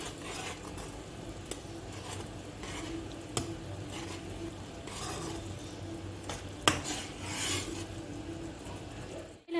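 A spoon stirring spices with red chilli powder, turmeric and salt in a cooking pot, repeated scraping and clinking strokes over a low simmering sizzle, close and moderately loud, with no talking.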